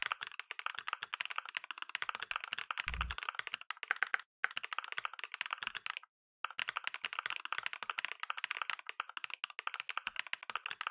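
A laptop keyboard is typed on quickly during a Monkeytype typing test, with dense close clicking that pauses briefly twice and one dull thump near the start.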